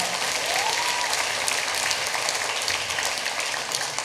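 Steady, dense applause from an audience at a Washington State Korean Day celebration, loud and continuous throughout with no voices standing out.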